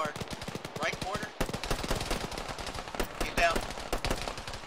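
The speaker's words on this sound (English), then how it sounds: "Where am I getting shot from?" Dense, rapid bursts of automatic gunfire crackle throughout a military video game firefight, loud and near with overlapping shots from several weapons and brief voices in between.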